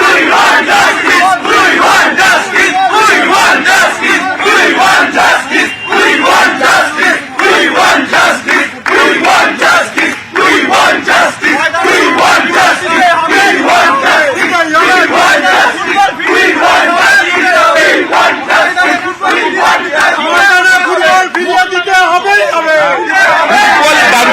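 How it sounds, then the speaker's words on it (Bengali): East Bengal and Mohun Bagan football supporters gathered on a street, a loud, dense crowd chanting and shouting together in rhythmic bursts, sustained throughout with babble filling the gaps. "দুই গ্যালারির একই স্বর, উই ওয়ান্ট জাস্টিস, এই স্লোগানিং তারা এই মুহূর্তে কিন্তু আরো একবার করছে"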